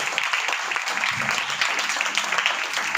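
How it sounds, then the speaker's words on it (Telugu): A church congregation claps together at a pastor's prompting during a sermon, a dense, steady patter of many hands that stays fairly loud through the whole stretch, with faint murmuring mixed in. "అవ్వట్లేదన్న వాళ్ళందరూ చప్పట్లు కొట్టండి"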